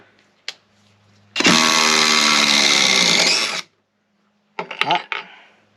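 A Craftsman V20 Gen 2 brushless impact driver runs in reverse to back a screw out, giving one loud, steady burst of motor whine lasting about two seconds. Short clicks come before it and handling noises follow.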